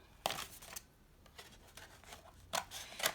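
Scissors snip through a paper plate to make a dream catcher, giving several sharp, close cutting crunches in uneven bursts with quiet rustling between them.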